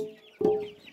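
Free-range village chickens fed by hand cluck around the feeder, a louder close cluck bursting out midway over a steady low murmur of the flock.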